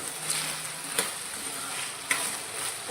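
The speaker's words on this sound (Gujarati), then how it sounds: "બટેકાને આપણે 2 થી 3 મિનિટ આ રીતે હાઈ ગેસની ફ્લેમ પર સાતરીશું।" Potatoes sauté in oil over a high flame, keeping up a steady, moderate sizzle broken by a couple of sharp stirring scrapes.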